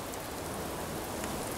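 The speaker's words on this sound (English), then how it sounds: "That protects me from the rain." Steady rain falling in the Animal Crossing: New Horizons video game, a continuous soft hiss of drops with no talk.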